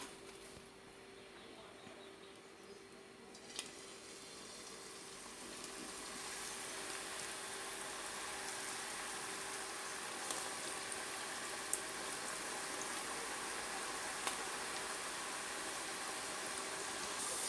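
Kara sev dough made from thuvaram paruppu pressed into hot oil to fry: a faint, steady bubbling sizzle builds and stays even throughout, with a few small clicks and pops, and no talking.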